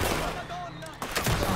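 LeMat revolver shots in Red Dead Redemption 2 boom out amid crowded gunfire, with a shot standing out partway through and more banging toward the end while someone talks.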